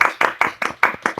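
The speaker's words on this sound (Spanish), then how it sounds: "un aplauso, bravo." A small audience welcoming a cast member on a television programme gives a few sharp, close hand claps in an irregular rhythm, about six distinct claps in just over a second.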